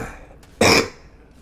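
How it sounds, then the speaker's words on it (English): A single sharp cough from a nearby person, a brief loud burst preceded by a small catch of breath, then quiet room tone. "Sorry I keep coughing."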